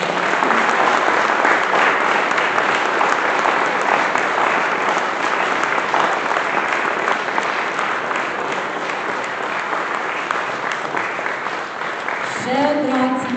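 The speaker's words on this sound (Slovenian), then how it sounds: "vsi v dvorani se strinjamo, da se vam zahvalimo z enim velikim aplavzom" A large hall audience at a Slovenian folk singers' concert claps in sustained, dense applause that stays loud throughout, with faint voices and a few higher tones creeping in near the end.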